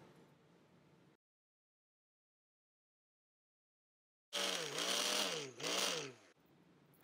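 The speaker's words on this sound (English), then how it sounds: "The first step is to grind the garam masalas and the lentils and wheat together" An electric grinder whirs loudly for about two seconds, pulverising garam masala spices, lentils and wheat into powder; the motor pitch dips and recovers in a wavering whine, with quiet room noise before and after.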